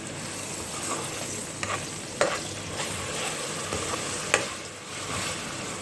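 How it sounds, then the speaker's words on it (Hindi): Ginger garlic paste sizzles and fries in a pan, with steady crackling and occasional scraping stirs of a spoon, fairly close and without talk. "थोड़े से हमारा अदरक लहसुन जो है वो भुन गया है"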